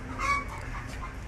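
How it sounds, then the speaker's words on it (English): Chickens in a backyard coop on a farm raising egg layers cluck softly for a moment, with a brief call standing out early over outdoor background noise. "Our chicken coop, where we collect all of our eggs."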